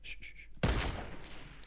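Gunfire in Fortnite, heard as a faint sharp burst of shots with a short rumbling tail, mixed quietly into game sound with a few electronic tones before it.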